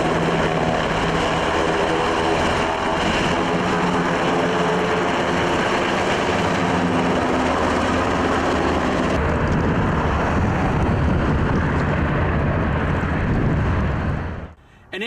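Helicopter landing at a hospital landing site during an emergency training exercise, a loud continuous rotor and engine roar that stays steady and then drops away sharply at the end.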